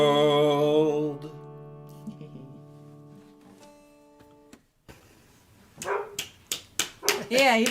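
A dog barks several times in short, sharp yips after a song ends on guitar chords, with quieter background sounds between the barks.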